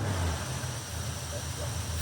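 A 1957 Chevy Nomad's engine idles steadily after a carburetor adjustment, a low continuous rumble heard up close.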